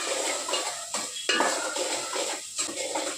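Spinach with half a spoon of turmeric being mixed in a pan with a metal spoon, close scraping and clinking strokes over a faint sizzle.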